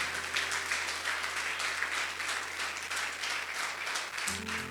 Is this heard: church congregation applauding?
yes